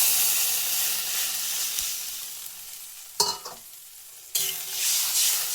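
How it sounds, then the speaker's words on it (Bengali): Water poured into an egg half-omelette curry in a hot pan, a steady hiss and sizzle with a few sharp splashy bursts partway through, close and fairly loud with no talking. "এখন দিয়ে দিচ্ছি পরিমাণ মতো জল"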